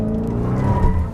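A 2020 Dodge Hellcat Widebody slides with its tires skidding and squealing, a loud, continuous, close scrub of rubber over a heavy engine roar.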